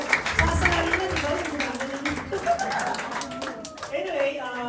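An audience claps at a seminar, a steady burst of many hands that lasts throughout and stays loud and close, with a voice talking over it.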